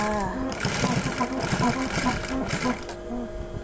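A sewing machine backstitches a fabric face mask in short rhythmic runs of needle clatter, close and fairly loud, with a voice speaking over it.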